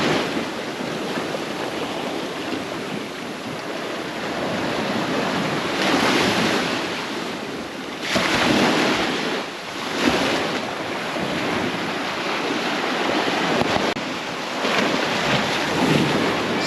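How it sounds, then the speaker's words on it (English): Ocean surf breaking on Playa Chiquita beach in Sosúa, rolling waves swelling and crashing in repeated surges under steady wind noise on the microphone. "Oh, the waves are coming up."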